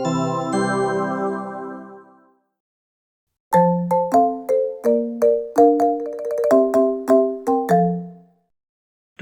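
A school bell chime rings out clearly: first a sustained ringing tone that fades away, then after a pause a quick run of bright, evenly spaced bell notes close by, with no voices.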